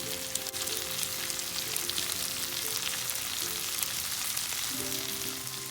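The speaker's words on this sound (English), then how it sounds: "I'm going to finally add the shrimp" Shrimp frying with peppers and other vegetables in a pan, a dense, continuous hiss of sizzling oil heard close and steady, with faint crackles throughout.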